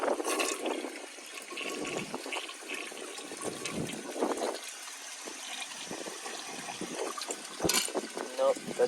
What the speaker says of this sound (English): I'm gonna empty the rest of the water out of the tank and see if it could take it.